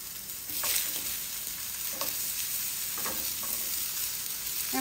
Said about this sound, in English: I'm gonna grab the next section of zucchinis and lightly brown them on each side